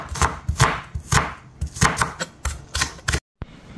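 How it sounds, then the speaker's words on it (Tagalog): A knife slices onion on a chopping board in quick, uneven rhythmic chops, close and crisp, ending in a brief pause. "So magagayat naman tayo ng ating panggisa."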